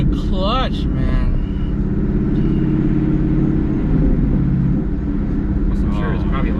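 2018 Ford Mustang GT 5.0L V8 with an AWE Touring catback exhaust, heard from inside the cabin as a deep continuous rumbling drone, with people talking over it.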